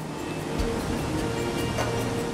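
Iguazu Falls, a vast set of more than 270 waterfalls, roars as a loud, dense, unbroken wash of falling water that fills the whole clip with no voices.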